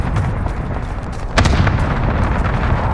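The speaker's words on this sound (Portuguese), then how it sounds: "Cluster strike away." Cluster strike explosions in Call of Duty: Modern Warfare rumble in a dense, continuous barrage of booms. The barrage grows heavier partway through.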